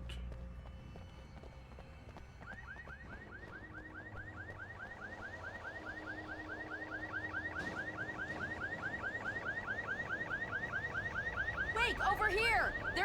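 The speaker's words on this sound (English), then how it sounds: "Why did that car alarm just all of a sudden start going off there?" A car alarm goes off in the horror video game Alan Wake Remastered, starting a few seconds in and repeating a rapid rising whoop over and over, growing steadily louder over a low ambient rumble with brief footstep-like sounds.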